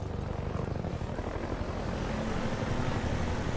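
A Half-Life 2 helicopter roars with a steady, dense rotor and engine drone, loud and continuous throughout, with no voices.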